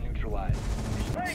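A Wamai gadget fired in Rainbow Six Siege, giving a short sharp burst of shots with whooshing projectile sweeps, close and loud over background game noise.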